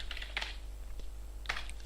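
Computer keyboard keys tapped while entering a menu choice in an interactive R program: a quick cluster of clicks, then a lone tap and a final keystroke, close and crisp over a steady low hum.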